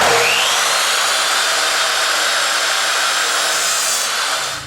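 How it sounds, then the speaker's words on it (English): A power saw rips through wooden side rails for a bat house, cut at a 30-degree angle, producing a loud, steady, close whining buzz that holds for several seconds before tapering off. "Now I'm cutting the side rails, again at the top at a 30-degree angle."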